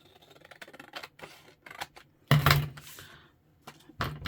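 Scissors snip paper while a paper bag journal is assembled, a few close crisp cuts with rustling paper handling between them.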